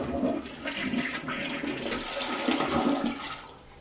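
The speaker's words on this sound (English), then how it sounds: "Then we're going to flush the toilet and pretend like it never happened." A household toilet flushes with a steady, close rush of water that swirls for about four seconds and then tapers off.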